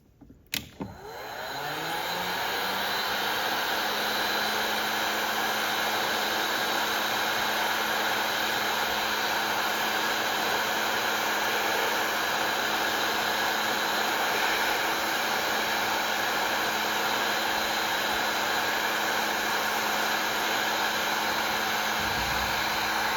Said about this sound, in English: And now we are going to do the heat shrink.